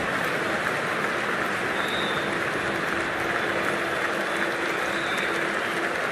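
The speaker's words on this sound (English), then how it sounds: "There's an almost tangible fervour throughout the crowd at the moment." A cricket match crowd at a practice game keeps up a steady, dense roar of cheering and clapping for the whole stretch, loud and unbroken, with no clear voices standing out.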